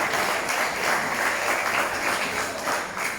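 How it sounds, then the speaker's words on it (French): Audience applause at a press event for the Tour des Yoles 2023 in Martinique, a steady, dense wash of many hands clapping for about three seconds with no break. "Sous vos applaudissements,"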